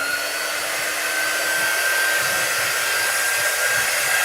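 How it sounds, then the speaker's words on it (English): A small hair dryer blows steadily at close range to dry chalk artwork, giving a loud, constant airy roar with a faint high whine and no talk. "All right, let's get that dry."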